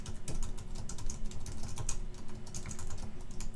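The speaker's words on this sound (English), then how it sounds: "and type in anything I want." Rapid keystrokes on a computer keyboard clatter in an uneven, continuous rhythm, close and moderately loud, with no voices over them.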